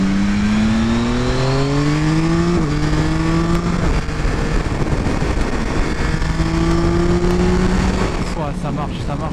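Yamaha Tracer 9 GT 2022 motorcycle accelerating hard, its engine note climbing and dropping sharply at quickshifter gear changes, loud and continuous under wind noise.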